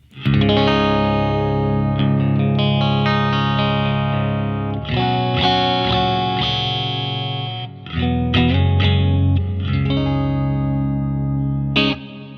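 Clean electric guitar with the pickup selector in the middle position, run through a BOSS EQ-200 pedal with reverb and delay, playing loud ringing chords and melodic phrases in sustained bursts with short pauses and no talking.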